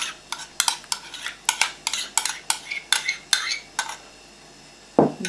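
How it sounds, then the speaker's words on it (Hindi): Dry flour and baking powder stirred together in a bowl for sweet baras, a run of brisk scraping, clinking strokes in a steady rhythm, close and fairly loud, with a short pause before a final few strokes. "तो ये इसको पहले मिक्स कर लेते हैं।"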